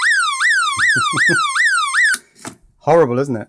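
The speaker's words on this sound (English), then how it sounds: "the siren-y thing still works as well" A wind-up clock radio torch made by Bush sounds its electronic siren, a loud rising-and-falling wail repeating about every half second for two seconds, then stopping abruptly before someone speaks briefly.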